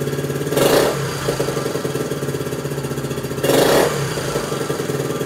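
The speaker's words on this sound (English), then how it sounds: "as I open the throttle, it gets the exactly perfect amount of gas with the exact perfect amount of air at the same time, and it runs great" A Honda CT90 motorcycle engine with a freshly tuned carburetor idles steadily, then revs up twice as the throttle opens, each rev a brief loud surge before settling back to idle.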